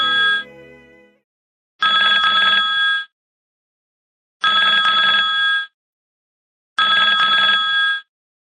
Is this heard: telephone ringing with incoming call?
yes